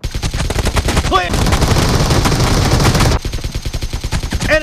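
AKM rifle fire in a video game, with dense bursts of loud gunshots across most of the stretch and a few sharper single shots at the edges, alongside brief voice callouts.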